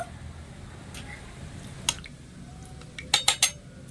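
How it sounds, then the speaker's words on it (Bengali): A spoon mixes spices into paneer in a bowl, giving soft squishy stirring with occasional sharp clinks of metal on the bowl, several close together near the end. "এবারে মশলাগুলো দিয়ে সবকিছু ভালো করে পনিরের সাথে একটু মিশিয়ে নেবো"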